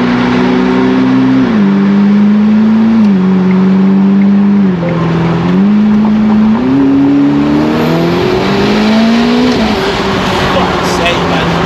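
A newly bought car's engine revs and accelerates, its steady droning tone stepping up and down through the gears as it pulls hard, loud and close from inside the cabin, with a voice talking over it.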